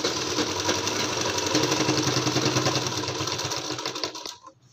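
A sewing machine stitches net fabric for a lined kurti, a fast steady mechanical whirring chatter running close and continuous for several seconds before stopping abruptly near the end.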